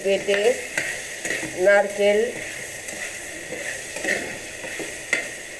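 Chicken being stir-fried in a pan with coconut and poppy seed, with scraping stirring strokes over a steady sizzle, a few louder bursts of stirring, and brief voice-like sounds early on.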